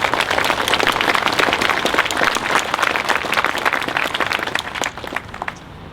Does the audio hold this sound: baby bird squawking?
no